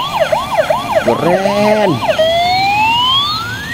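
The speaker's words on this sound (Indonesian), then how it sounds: "Ada mobil ambulans, teman-teman." A toy ambulance blares a loud electronic siren close up, first cycling in quick rising wails, then shifting to a long sweeping tone, while a voice briefly exclaims over it.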